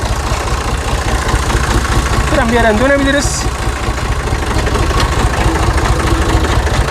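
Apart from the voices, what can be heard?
tractor engine idling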